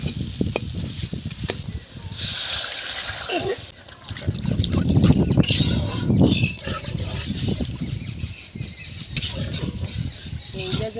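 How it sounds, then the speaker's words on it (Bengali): Water splashes into a pan of spiced fish curry made with small local fish, a loud hissing sizzle with splattering that rises and falls, followed by stirring and clattering, with a voice speaking over it. "এখন আমি জল ঢেলে দেবো।"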